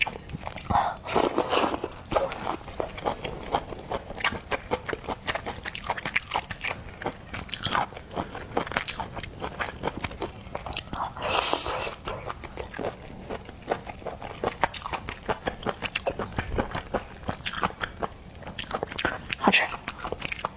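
Shrimp, crab and squid being eaten up close, with steady crunchy bites and wet chewing throughout, punctuated by sharper cracks of shell.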